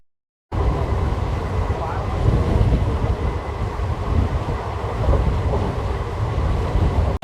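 Pinakini superfast express running into Gudur station, a loud, steady rumble of train wagons on the rails that starts abruptly after a short silence and carries on without a break.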